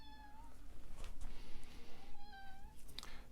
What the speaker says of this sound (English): Oh, I hear my cat meowing behind me.